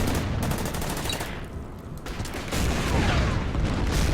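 Tanks in a World War II strategy game firing on a KV tank: dense, continuous cannon and machine-gun fire with booming impacts, loud and sustained throughout with no pauses.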